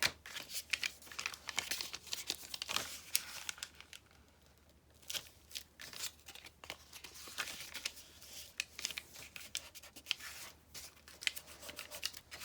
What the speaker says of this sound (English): so now we're just going to cut this piece off, cut this piece off